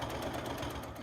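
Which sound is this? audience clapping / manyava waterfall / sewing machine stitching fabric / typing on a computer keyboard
sewing machine stitching fabric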